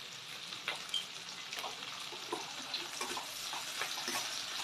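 Onion sautés in a pan for chilli chicken, a steady close sizzle and crackle with scattered soft ticks and stirring scrapes, and no voices.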